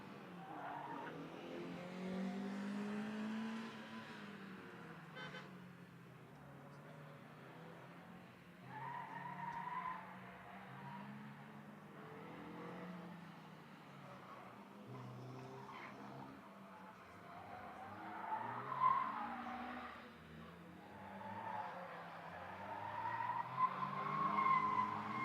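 A Honda Civic race car makes an autoslalom run at a European championship, its tires squealing and skidding repeatedly through the turns over a revving engine heard from a moderate distance.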